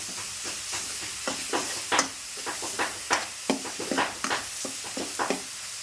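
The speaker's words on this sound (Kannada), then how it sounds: "ನೋಡ್ರಿ ಈಗ ಆರಾಮ್ಸಿ ಫ್ರೈ ಐತಿ" Cluster beans curry fries in a small amount of oil with a constant close hiss, while a utensil stirs and scrapes the pan in irregular, sharp strokes; no voices are heard.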